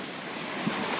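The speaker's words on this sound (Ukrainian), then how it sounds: "Такий вітер холодний." Cold wind blowing by an estuary (liman) near Sukholuzhzhia, a steady broadband rush like surf or microphone buffeting, continuous and fairly loud for about a second with no talking.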